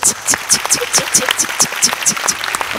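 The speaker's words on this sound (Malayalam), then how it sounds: "ക്ലാപ്പ്, ഇത് അത് ക്ലാപ്പ് ആണ്." Rhythmic hand clapping on a comedy stage show, about a dozen sharp, evenly spaced claps keeping a beat, close and loud, with faint voices in the background.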